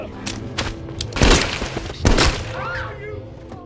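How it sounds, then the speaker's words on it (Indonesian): Gunshots in an action film: two heavy booming shots stand out among a few sharper cracks, with background film sound between them. "Neto pun langsung menghabisi anak buah Dodi serta menembak kakinya Dodi."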